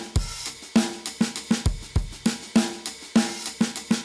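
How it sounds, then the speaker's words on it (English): A drum break sample loop plays on an audio track in Ableton Live: punchy kicks, snares and hi-hats in a steady, repeating groove of sharp, evenly spaced hits, loud and alone. "I've just got a break sample loaded up on an audio track"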